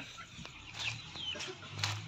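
Native chickens, including laying hens, cluck softly in short scattered bursts, with some higher squawks over a low background hum; no one speaks.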